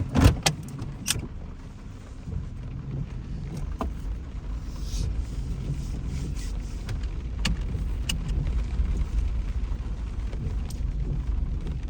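A car drives along scenic roads with a low, steady interior rumble. Small clicks and rattles come through, and a sharper knock sounds at the start.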